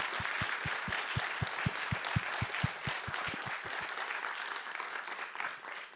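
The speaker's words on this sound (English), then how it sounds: "maybe a round of applause for our Ukrainian colleagues" An assembly audience at a closing session applauds its Ukrainian colleagues in a thick, continuous roar of clapping, with a regular series of low rhythmic thumps running under it for about four seconds before the applause thins.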